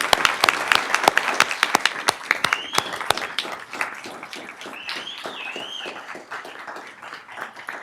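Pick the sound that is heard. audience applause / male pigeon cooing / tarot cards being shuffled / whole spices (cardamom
audience applause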